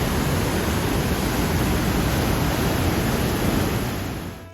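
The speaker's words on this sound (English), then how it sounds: "Then we saw Christine Falls." Christine Falls, a waterfall in Mount Rainier National Park, pours as a loud, steady broadband roar with no voices, fading slightly at the very end.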